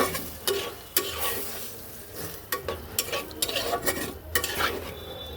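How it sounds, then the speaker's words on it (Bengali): Fish masala with potato, tomato and a splash of water being mixed in a pan: steady close scraping and stirring strokes over a low simmering sizzle, with occasional sharp spoon knocks. "সব কিছু একসাথে সুন্দর করে মিক্স করে দিলাম"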